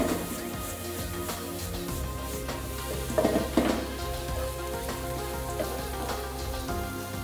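Shrimp sizzling and frying in a hot pan on a gas stove while cooking stuffed squid, a steady crackling hiss held at even loudness throughout with a few brief louder pops near the middle.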